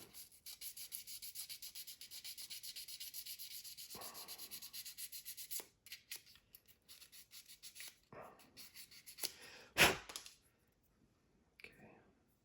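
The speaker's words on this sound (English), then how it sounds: "So I'm just going to go ahead and sand these out real quick." 3D printed figures are sanded by hand, a steady close rhythmic rubbing scrape for several seconds, then a pause and shorter rubbing strokes with a few handling knocks, quiet overall with no talk.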